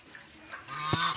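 A goose gives a short nasal honk, then a louder one, close by over faint background noise.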